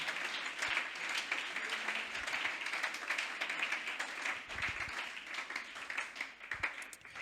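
A church congregation applauds and cheers in acclamation during a Sunday service, a steady wash of many hands clapping at moderate distance that swells and dips throughout.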